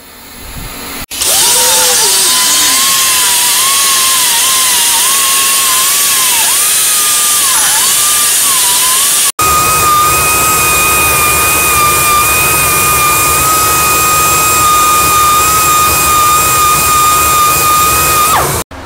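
A handheld air grinder fitted with an 80 grit sand roll works a 289 small-block Ford cylinder head, a loud high-pitched pneumatic whine that wavers as it bites, cuts out briefly, then resumes steady before stopping.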